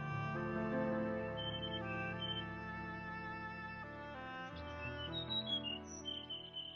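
A small white bird chirps in a fairy-tale setting, its brief high tweets scattered lightly over a sustained soft musical backdrop, with no voices.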